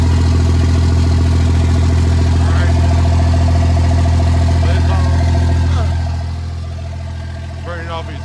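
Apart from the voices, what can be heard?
2nd gen Cummins diesel truck engine idling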